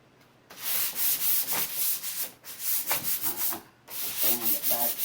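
Wooden vanity drawer being hand-sanded, steady close scraping strokes in bursts with a couple of short pauses between passes.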